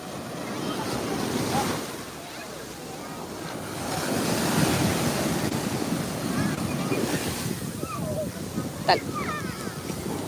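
Sea waves washing onto the shore at Thiruchendur, a continuous surging roar with swells rising and falling, mixed with wind buffeting the microphone and faint distant voices.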